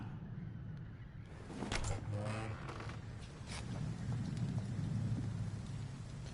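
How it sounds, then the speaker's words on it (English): Rain falls in the video game Vampyr, a steady wash of rainfall with rumbling thunder-like low tones swelling in after a quiet start, continuous and fairly soft. "Oh, it's raining now."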